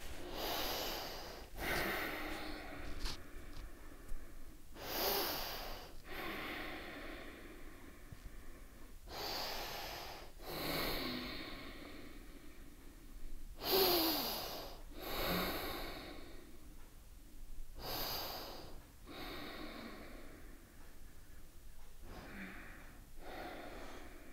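Slow, deep breaths during a yoga flow, each inhale and exhale a broad airy rush heard up close, repeating in a steady rhythm about every two to four seconds with quiet pauses between.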